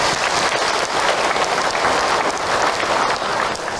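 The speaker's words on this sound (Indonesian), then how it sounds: "Tepuk tangan untuk Ahilman," Audience at an Isra Mi'raj religious talk claps for the preacher, Ustaz Hilman: loud, dense, continuous applause filling the room at close range, steady throughout.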